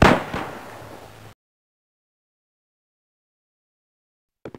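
A single gunshot rings out loud and close, its sharp crack trailing off into a short echoing tail, followed by a long silence and then two faint brief pops.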